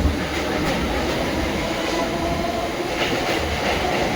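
A Mumbai suburban local train on the CSMT to LTT run picks up speed, heard as a dense, steady rumble with faint clatter of wagons from inside the car.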